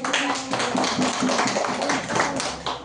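A school class clapping together after a group presentation, loud, brisk and continuous clapping in a classroom, close and lively, with slightly uneven rhythm as the hands come in and out.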